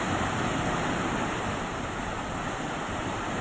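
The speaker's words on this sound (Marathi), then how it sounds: "धबधब्याचं हे रौद्र रूप पाहायला मिळत आहे" Waterfall near Shivthar Ghal in Raigad roaring in heavy monsoon rain, a dense, constant broadband rush of falling water with wind noise, loud and unbroken throughout.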